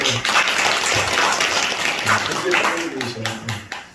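A church congregation breaks into sustained applause at close range, the dense clapping steady throughout and tapering slightly at the end, with a voice speaking over it.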